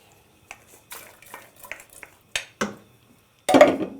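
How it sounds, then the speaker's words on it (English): Diced tomatoes being stirred into a soup pot on the stove, with a spoon clinking and scraping against the pot in scattered taps and knocks, ending in a louder rattling clatter. "Next ingredient is the diced tomatoes. Stir those in."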